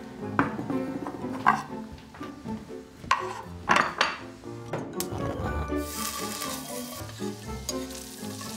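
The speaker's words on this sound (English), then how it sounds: "Sear it on the skin side to get it a little bit crispy." Salmon fillet sears skin side down in a hot pan with anchovy butter, giving a steady close sizzle and frying crackle, with occasional clinks of a utensil against the pan.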